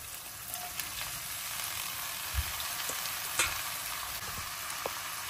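Bottle gourd peel sizzles steadily in hot oil in a pan, a continuous close frying hiss with occasional soft stirring clinks and spatters.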